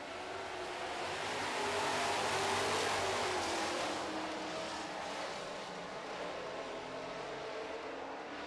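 Super trucks racing on an oval track, a dense, steady roar of several engines passing at a distance, swelling slightly and fading back.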